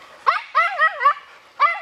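A dog playing with a ball gives a short series of high, yelping barks and whiny yips, close and loud, with brief pauses between them.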